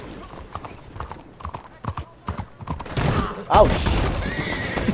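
Horse hooves clip-clop through a video game, followed by a loud whinny near the end, with a voice talking and exclaiming over the early footsteps.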